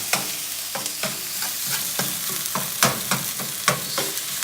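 Ground turkey sizzles in a hot pan while being broken up and stirred, broad frying hiss punctuated by repeated scraping strokes at a quick, uneven rhythm, close and fairly loud.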